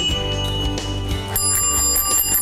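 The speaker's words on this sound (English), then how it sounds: "we have bells, all different kinds of bells" Several bicycle bells in a bike shop ring in quick succession, bright metallic dings and trills of different pitches, close and clear with no talking.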